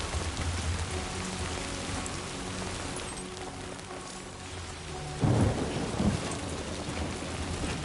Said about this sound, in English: the rain is coming down, and you can feel it